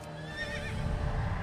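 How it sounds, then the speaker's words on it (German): A horse in the video game World of Warcraft gives a loud, wavering whinny over a low rumbling background, brief and close, with no talk. "Stößt ein lautes Wiehern aus"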